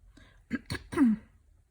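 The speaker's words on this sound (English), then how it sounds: "all the coughing" A few short coughs and throat clearings from a person with allergies, close to the microphone, three quick bursts with a rough, voiced edge.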